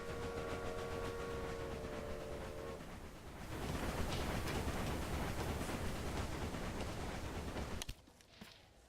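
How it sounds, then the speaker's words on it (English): Train rolling past in the railway management game Railway Empire, a steady broadband rumble and rattle that swells midway and then cuts off abruptly near the end, with a brief tonal whistle-like hum early on. "Okay, let's let that train pass real quick."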